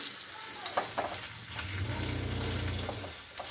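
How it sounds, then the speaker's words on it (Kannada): Grated coconut roasts in hot ghee with a steady, fairly loud sizzle, briefly broken by a few stirring scrapes, then a fuller crackle swelling and fading near the end. "ತೆಂಗಿನಕಾಯಿನ ತುಪ್ಪನ್ಯಾಗ ಹುರ್ಕೊಳ್ಳೋಣ"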